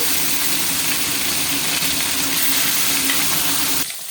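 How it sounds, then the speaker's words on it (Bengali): Loud, steady sizzling of tilapia fish frying in hot oil fills the clip, bubbling continuously before cutting off abruptly near the end. "তেল গরম হয়ে গেছে আমি মাছগুলোকে একটা একটা করে ভেজে নেব"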